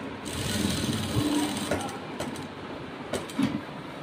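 A sewing machine runs close and steady as it stitches a blouse, with a whirring mechanical hum and faint clicks, pausing briefly near the end.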